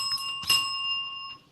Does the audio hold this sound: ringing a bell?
yes